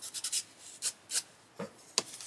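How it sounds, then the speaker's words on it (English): Sandpaper rubbing pastel on a coloring page, a series of short dry scratchy strokes in an uneven rhythm, close and soft, without talk. "And then you can just use your sandpaper to change colors"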